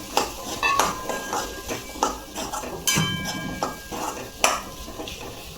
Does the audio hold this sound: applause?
no